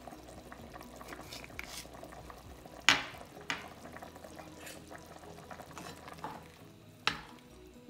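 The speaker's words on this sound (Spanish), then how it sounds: "ya una vez que ya está hirviendo, ya empieza a hervir otra vez" Shrimp broth simmering in a pot, a soft bubbling under faint background noise, punctuated by several sharp clinks and knocks of utensils against the pot.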